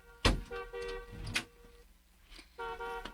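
Car horn honking in short bursts, a sharp blast followed by several sustained honks with gaps between them, close and loud over a street background.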